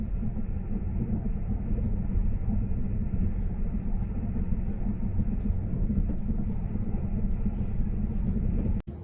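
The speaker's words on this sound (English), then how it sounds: "our electrified train rolls along at speeds of up to 120 kilometers" Steady low rumble of an electric train rolling along the rails at up to 120 km/h near Preston, continuous and close, with faint clicks over the drone before it cuts off.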